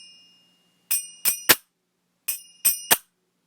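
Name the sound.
majeera hand cymbals struck together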